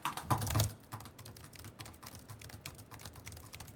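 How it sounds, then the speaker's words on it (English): Quiet, rapid tapping of computer keys, a steady run of light clicks after a slightly louder burst at the start. "a way to detect the noise from the keyboard"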